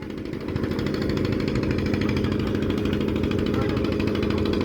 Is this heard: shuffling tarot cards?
no